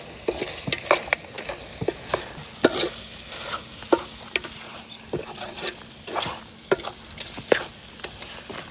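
Chilli powder and pepper mixture being stirred in a pan, with repeated scraping clicks and soft sizzling in an irregular rhythm, close and moderately loud with no talk.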